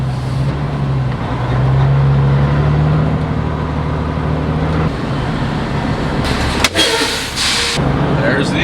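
A truck engine reversing while hauling rocks near an ethanol plant, a steady low rumble running throughout, close and fairly loud, with a brief clatter and rise in noise near the end.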